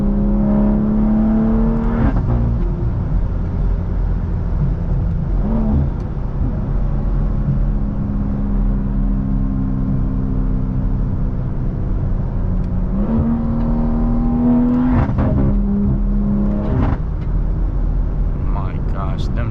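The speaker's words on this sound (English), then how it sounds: "the car sounds mad loud right now" BMW B58 engine car with a loud exhaust while driving, a steady deep drone with rising revs and pitch sweeps as it shifts and accelerates, and someone talking over it throughout.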